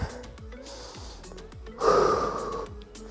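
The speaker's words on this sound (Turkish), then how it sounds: "Burundan aldık. Ağızdan verdik." A person takes a deep breath in through the nose and lets it out through the mouth during an exercise cool-down, a close sniffing inhale followed by a louder breathy exhale.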